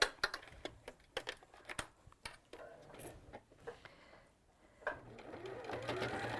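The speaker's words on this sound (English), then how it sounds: "So I'll just sew that into place for now" A sewing machine stitching a fabric handle into place, rapid bursts of mechanical whirring and clatter in short runs and pauses, close by, with soft handling noises between runs.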